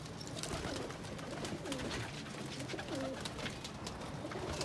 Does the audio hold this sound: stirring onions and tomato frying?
no